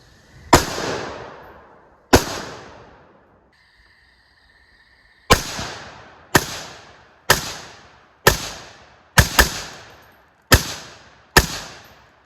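A PTR rifle fitted with an LMT muzzle brake and no suppressor fires ten loud sharp shots in an uneven sequence, each crack followed by a short decaying echo, with a brief quiet gap early on.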